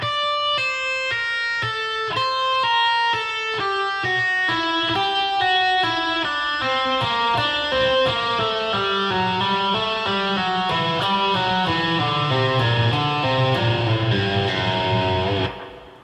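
A clean guitar plays a quick run of single notes climbing through a minor scale in repeating groups, steady and even, ending with a final ringing note.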